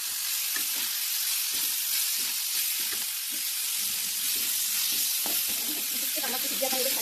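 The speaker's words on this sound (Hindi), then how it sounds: "टमाटो पकईदेवी" Chopped tomatoes fry in a pan with oil, turmeric and spices while cooking dahi pakhala, giving a loud continuous sizzle with occasional stirring scrapes and a brief voice near the end.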